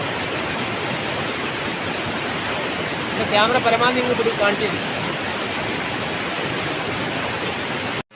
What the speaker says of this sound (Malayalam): ഭയങ്കര ഫോഴ്സിലാണ് വെള്ളം പോകുന്നത്.